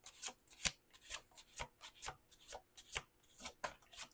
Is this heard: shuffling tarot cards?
yes